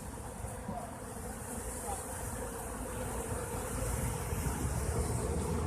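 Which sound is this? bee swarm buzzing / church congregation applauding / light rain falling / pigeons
bee swarm buzzing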